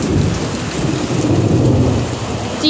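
Thunder rumbles low and heavy during a birthday rainstorm, a continuous close roll layered over steady pouring rain hitting surfaces, with no voices.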